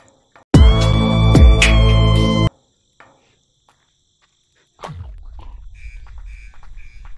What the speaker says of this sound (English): Oh, here it goes. The alarm goes off.